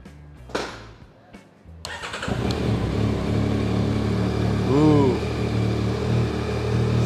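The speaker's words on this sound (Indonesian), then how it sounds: "Nah, terus kayak gimana suara motornya? Coba kita nyalain ya." A brand-new motorcycle with zero kilometers on the odometer and its stock exhaust is cranked a couple of times, then catches and settles into a steady, close, loud idle; a brief voice is heard during the idle.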